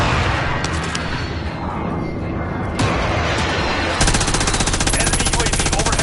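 A bomb strike in a video game lands amid gunfire: dense rattling shots and crackle, a sharp blast near the three-second mark, then a steady rapid machine-gun-like roar filling the last two seconds.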